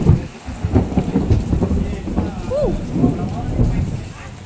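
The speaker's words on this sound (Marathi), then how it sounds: "आणि इतका पाऊस सुरू आहे" Rain falls on a rural house out in the fields, a steady dense hiss with low rumbling underneath that suggests thunder, and a faint voice comes through at moments.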